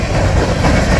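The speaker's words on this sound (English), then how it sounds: "It's kind of fun to chase the train every once in a while." A freight train rolling past at close range, a loud, dense rumble of wheels and rail clatter that fills the whole moment without a break.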